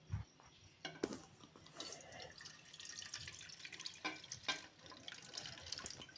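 Milk streams into a wok while making a sweet halwa from leftover roti, a soft, close liquid pour with gentle splashing and trickling, fairly quiet throughout.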